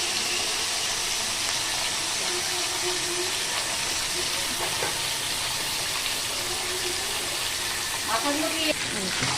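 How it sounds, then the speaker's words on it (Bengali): Chicken pieces frying in mustard oil: a steady, fairly faint sizzling hiss throughout, with light clinks and a voice talking over it. "সেটা আমি তেলের মধ্যে দিয়ে ভেজে নেবো আগে থাকতে"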